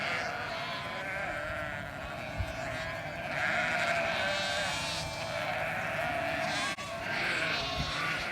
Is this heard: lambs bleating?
yes